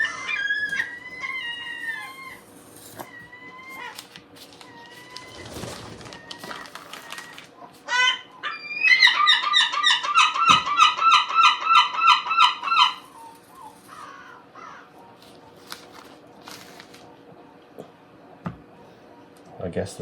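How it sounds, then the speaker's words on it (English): Seagulls call repeatedly outdoors in the morning, with a burst of rapid, rhythmic honking cries in the middle, amid other scattered squawks and background noise. "I guess the seagulls are making a lot of noise this morning."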